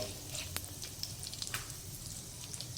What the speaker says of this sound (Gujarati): થોડું સંતળાઈ જાય આ બધું